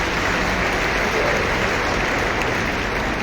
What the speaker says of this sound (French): Il mérite vos encouragements et vos acclamations, s'il vous plaît